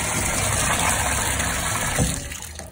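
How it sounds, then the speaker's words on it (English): Water rushes into a hot water heater tank as it refills after a pressure relief valve replacement, a steady, close broadband hiss with a low rumble, no voices. "we're filling the water tank back up. And we can hear it filling up."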